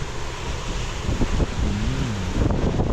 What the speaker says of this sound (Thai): ฟ้าทั้งลมทั้งฝนทั้งมรสุม